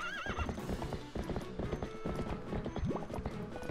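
Rapid hoof clip-clops with a horse neighing over them, busy and close, with game-like sound effects layered in, from The Legend of Zelda: Twilight Princess.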